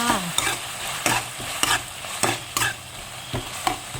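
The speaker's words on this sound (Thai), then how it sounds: "ผัดเสร็จเราก็เตรียมหัวหอมใหญ่ใส่ลงไปผัดค่ะ" Large onions are stir-fried in a pan for a Thai beef basil dish. A steady sizzle runs under rhythmic spatula scrapes and taps roughly every half second, with no talking.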